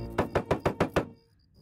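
Six evenly spaced knocks on a door, fairly quiet and close, in a steady rhythm before fading into stillness.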